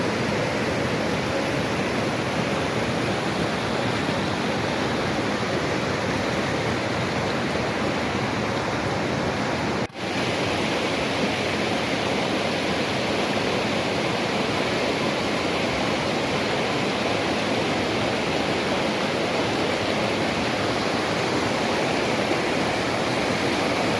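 Stream water flows steadily along a creek bank, a loud, continuous broadband rush with no let-up and no voices, broken only by a single brief click near the middle.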